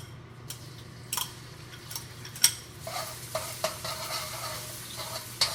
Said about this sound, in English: Oil in the pan, just enough so that things don't stick. And in goes the garlic.